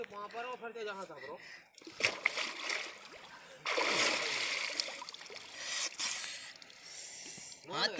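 Water splashes and churns in bursts as people bathe in the clear, very cold Dasanan River, with voices talking in Hindi before and between the splashes.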